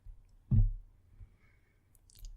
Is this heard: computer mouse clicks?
yes